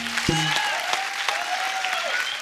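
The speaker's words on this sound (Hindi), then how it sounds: "जोरदार तालियां हैं मुझे।" Studio audience applause on the set of The Kapil Sharma Show, dense steady clapping filling the whole moment, loud and close, with a brief voice or tone cutting through near the start.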